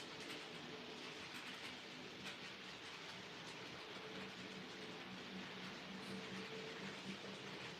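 A model train set runs along its track indoors, giving a steady rolling rumble with light clicking from the wagons, continuous and moderately close, with no talk.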